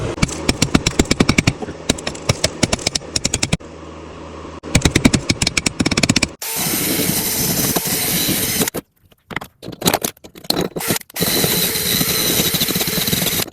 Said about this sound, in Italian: ho pulito per bene i cordoni con una spazzola metallica attaccata ad un avvitatore